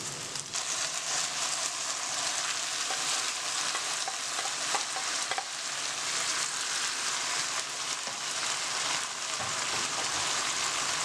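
Onions, pepper and tomatoes fry gently over low heat in a pan, giving a steady bright sizzle throughout with soft scraping stirs now and then, close and without talk.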